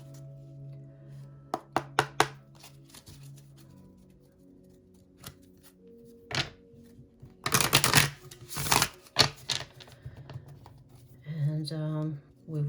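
Tarot card decks are shuffled in short, crisp bursts of riffling and tapping, with the loudest stretch of shuffling near the middle, against a quiet background hum, while a voice speaks intermittently.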